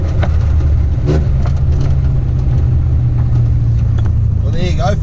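A Datsun 1500 ute engine accelerates and shifts into third gear after a new clutch master cylinder was fitted, a loud, close, steady drone with brief changes in pitch at the shifts. Someone talks over it.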